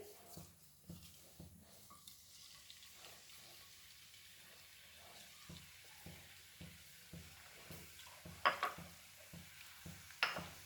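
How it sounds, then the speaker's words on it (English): Garlic frying in oil in a pan for Goan beef keema, a soft, quiet sizzle marked by regular stirring taps and scrapes, with a few sharper clinks of utensils near the end. "And add our garlic to this oil."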